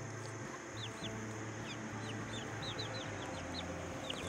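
Chickens in a mixed backyard flock cluck and chirp softly at a distance, with scattered short calls over a steady low outdoor hum and no talking.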